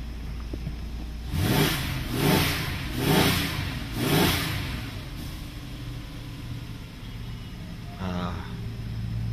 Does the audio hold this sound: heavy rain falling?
no